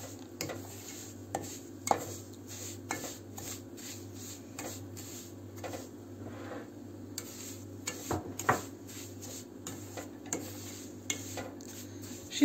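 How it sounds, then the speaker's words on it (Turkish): A spoon scrapes and clinks steadily against a pan while semolina halva made with milk is stirred, giving soft, irregular knocks over a low, constant background hum. "Şimdi birazcık daha şöyle karıştıracağım."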